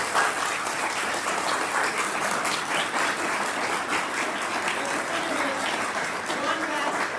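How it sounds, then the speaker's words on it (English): An audience at a gala event gives Kemba a loud, dense round of applause that holds steady without pause, with voices faintly mixed in. "A big round of applause for Kemba."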